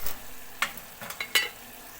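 A spoon scrapes and stirs fried onion and green chili with turmeric and spices in a hot pan, giving a few short, sharp clinks and scrapes over a soft, steady sizzle.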